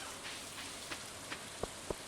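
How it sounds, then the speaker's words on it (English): Rain falling in the Stardew Valley video game during spring of the first year: a faint, steady patter with a few sharper drips standing out near the end. "No reason to stand in the rain."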